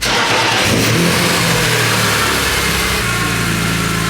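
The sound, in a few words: BMW car engine starting and revving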